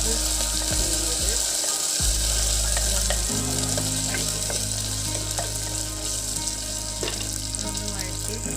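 Chopped ginger and slit green chillies fry in a pan with a close, continuous sizzle, broken by occasional scrapes and clinks of stirring.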